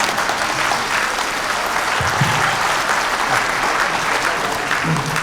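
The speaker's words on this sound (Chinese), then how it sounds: "你们一鼓掌，我就以为结束了。 别鼓掌啊！" A lecture audience gives sustained, dense applause that stays loud and even throughout, with a few voices faintly heard beneath the clapping.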